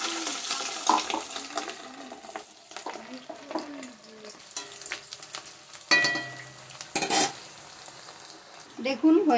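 Batter fritters of fish roe and pumpkin sizzle and spit in hot oil while being stirred, with scraping utensil clinks and brief splashes of water, moderately close and without talk.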